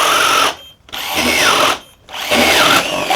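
A Festool TI15 drill bores through 3/4 inch bamboo in three loud, close bursts of whining motor and grinding bite, separated by short pauses, with no one talking.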